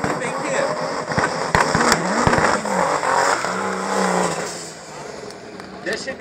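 A BMW 305 drag racing car in the SS class revs and accelerates hard at a drag strip, the engine note climbing and sweeping in pitch, heard under a commentator's voice.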